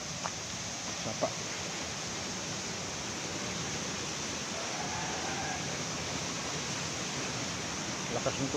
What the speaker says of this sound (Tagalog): Lakas ng tubig sa bundok.